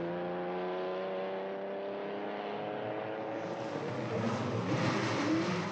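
Graham Hill's Ferrari racing car engine holds a steady, smooth high-pitched drone that rises slightly in pitch and grows a little louder and rougher toward the end, close and alone.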